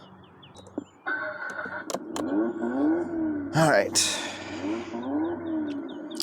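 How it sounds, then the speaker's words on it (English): A tuned 400 HP Subaru WRX drives down a residential street, its engine rumbling steadily inside the cabin and rising and falling through gear changes, with a person speaking briefly over it. "I can hear the engine."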